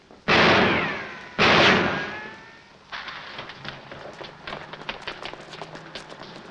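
Two loud gunshots ring out close together in a 1947 film scene, each with a long decaying echo, followed by hurried footsteps and light tapping.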